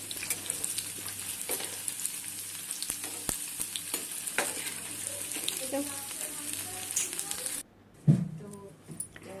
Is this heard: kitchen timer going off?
no